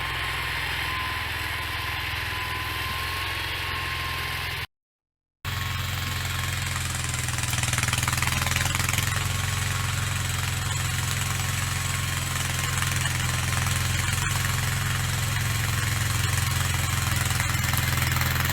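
A small engine drones steadily throughout, a walk-behind tractor with a rotary tiller chugging close by while tilling a garden plot, with a constant rumble and rattling vibration, briefly cutting out near the start.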